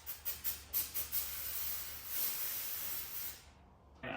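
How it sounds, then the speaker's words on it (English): An electronic cleaner aerosol sprays in several short hissing bursts, then one longer continuous hiss that stops abruptly, close and fairly quiet. "Next, we're going to grab this electronic cleaner."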